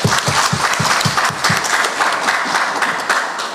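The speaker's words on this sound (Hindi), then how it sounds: "एक बार जोरदार ताली मारें।" A seated audience in an old assembly hall in Ranchi claps loudly together. The applause starts with a few strong rhythmic beats and then becomes a dense, continuous roar that fades slightly toward the end.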